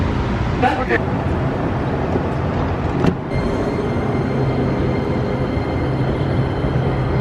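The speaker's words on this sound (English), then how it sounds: "this is the inside of the train. Green line." Interior of a moving Dallas Green Line light rail train: a steady loud rumble of wheels and car body noise, with a sharp clank partway through and a faint high electrical whine after it.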